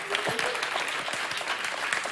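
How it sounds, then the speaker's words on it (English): Audience applause at a DigiEduHack 2023 main stage event in Madrid, a continuous patter of many hands clapping at moderate volume, with a few voices mixed in. "Give yourself a big round of applause."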